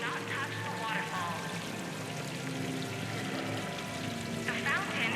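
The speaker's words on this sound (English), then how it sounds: "The fountain is decorative." A decorative fountain in Mass Effect 3 pours a steady, soft stream of water, a quiet continuous wash heard under game voices and ambient tones.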